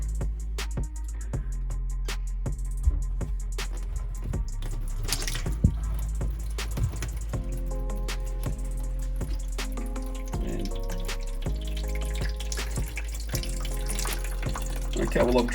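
Household taps are drained to clear water hammer. Running and dripping water trickles and splashes into a sink, with pipe clunks and handling knocks throughout at close range.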